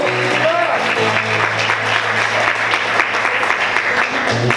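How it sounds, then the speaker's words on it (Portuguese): A church congregation applauds steadily in praise during a worship service, a dense wash of clapping over a sustained low organ-like tone that holds throughout. "Aplaude o Senhor."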